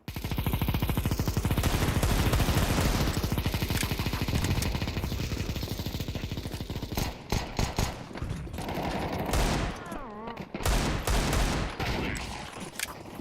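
Sustained rapid automatic gunfire in a video game, dense and loud for most of the stretch, thinning into scattered bursts and shots near the end.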